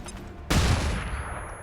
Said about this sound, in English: this soldier just threw a flashbang